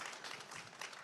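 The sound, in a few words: audience applause and clapping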